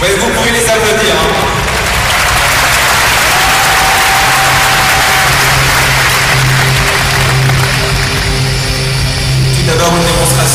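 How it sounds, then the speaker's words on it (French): Loud, continuous applause sweeps through a crowd at an aikido demonstration honoring three fifth-dan experts. The dense clapping holds steady for several seconds. "Ouais, vous pouvez les applaudir."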